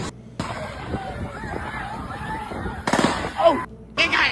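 Gunfire near the pond in Piedmont Park, Atlanta, heard as sharp pops within crowd babble and chatter, with a louder cluster of bursts toward the end.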